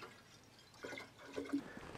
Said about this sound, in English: So what we need is distilled water. You first you fill it up to 900 milliliters.